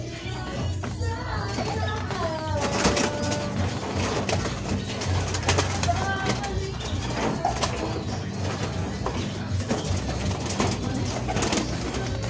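Racing pigeons coo repeatedly, close and clear, while being handled and recovered at a club release, with flapping and busy background noise and people talking nearby.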